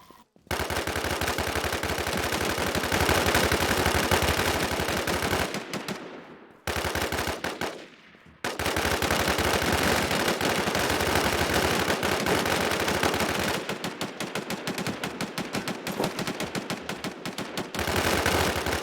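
Sustained automatic gunfire in the survival shooter WarZ, dense and loud bursts filling most of the stretch, with two brief pauses, then renewed rapid rattling shots toward the end.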